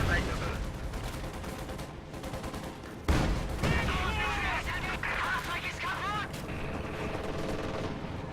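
Su-76 artillery barrage in a strategy video game: dense rumbling gunfire and distant impact bursts under continuous battle noise, with a sharp louder blast partway through.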